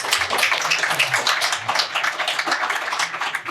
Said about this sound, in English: a big round of applause for all these